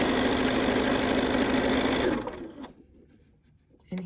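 Sewing machine running steadily as it stitches quilt block pieces right sides together, a loud continuous whir for about two seconds before it stops and the room falls quiet.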